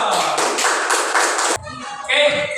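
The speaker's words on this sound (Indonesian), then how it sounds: "Tepuk tangan dulu dong." Audience in a classroom presentation session claps hands for about one and a half seconds, a dense burst of close, loud clapping that stops abruptly, followed by brief talk.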